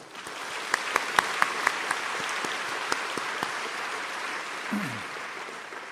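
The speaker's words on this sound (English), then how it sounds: "Let's give a big round of applause to our incredible staff for making this evening possible." Diners at a chamber of commerce year-end banquet applaud in a steady wash of clapping, with a few sharper individual claps near the front and a brief low voice stirring toward the end.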